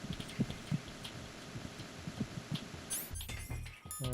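Low muffled heartbeat thuds from Metal Gear Solid 2 pulse steadily over a faint game hum, then give way near the end to brighter electronic game tones and clicks.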